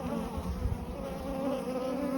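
Honey bees buzz around a backyard beehive, a continuous close, droning hum of many insects with slight swells and no voices.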